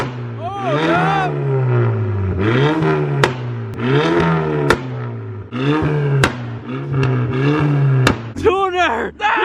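A Volkswagen MK6 GTI engine revs repeatedly and held between about 4,000 and 5,000 rpm, a loud close rising and falling drone with sharp pops from the tuned car, while people talk and shout over it.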